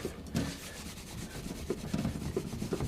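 Old crusty masking tape residue being rubbed off a painted surface by hand, a close, dry scrubbing and rubbing sound in repeated strokes that grow slightly busier toward the end, no voices.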